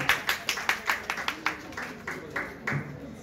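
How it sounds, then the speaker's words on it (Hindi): A small group of women at a beauty-care training workshop claps, a light scatter of close, sharp claps that starts brisk and thins out over a few seconds, with no talking. "थोड़ा जोरदार ताली बजाइए"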